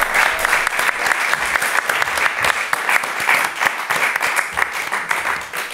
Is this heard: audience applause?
yes